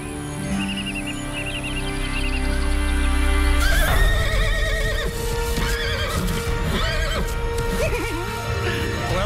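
A pony whinnies several times with clip-clopping hooves, a loud neigh peaking partway through over low background hum.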